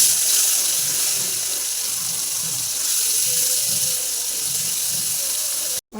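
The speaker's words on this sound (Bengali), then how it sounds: "তেল গরম হয়েছে, চিংড়ি মাছগুলো ভেজে নেবো" Prawns rubbed with salt and turmeric frying in hot mustard oil, giving a loud, steady sizzling hiss that runs unbroken until a brief cutoff at the very end.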